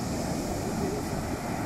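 Strong ocean waves surge at a beach with a strong current, giving a steady broadband wash of surf mixed with wind rumble, fairly close and unbroken, with no talk.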